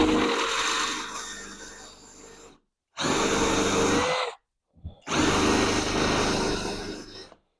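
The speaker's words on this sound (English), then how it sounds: "It is only a 12-volt drill" A 12-volt SKIL cordless drill whirs loudly in three separate bursts of a few seconds each, the motor straining as it bores into wood for dowels, with short silent pauses between.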